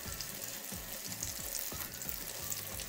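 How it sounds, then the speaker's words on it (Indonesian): Tofu perkedel fries in hot oil with a continuous close sizzle and crackle, and faint scraping and stirring noises come through now and then. "Kita goreng juga sebelahnya ini sampai berwarna kuning keemasan."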